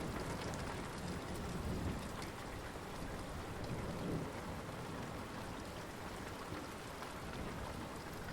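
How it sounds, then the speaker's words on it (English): Steady, dense rainfall with a constant hiss of drops hitting surfaces, even and unbroken throughout, with no voices. "Weather remains rainy, low visibility"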